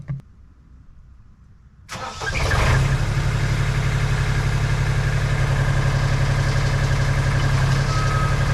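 A Genie Z60/34 articulated boom lift's engine, on a new battery, cranks briefly after a quiet moment, catches and settles into a loud, steady idle that runs on alone.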